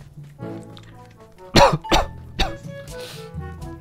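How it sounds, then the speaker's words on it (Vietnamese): A man coughs three times in quick succession, close and loud, the short harsh bursts standing alone against a faint background hum. "Mấy ngày thức khuya nhiều quá bị ho à."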